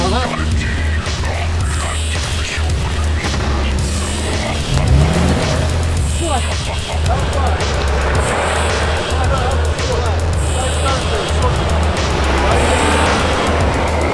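A Toyota Land Cruiser Prado 150 drives off-road, its engine a loud, steady low rumble throughout, with occasional bumps and scrapes as people talk over it.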